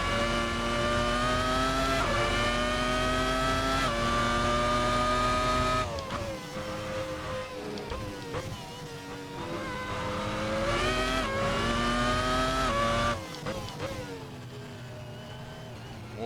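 Simulated race car in the Assetto Corsa racing game at Imola's Tamburello, with the rear sliding loose. A loud, continuous engine whine shifts pitch through gear changes and revving, with tyre squeal and no talking.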